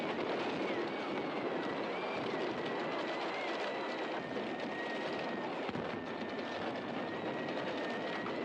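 Tank rolling across the battlefield in a Halo match: a continuous heavy mechanical rumble with grinding and whining tones, steady and loud, with faint battle noise and some talk mixed in.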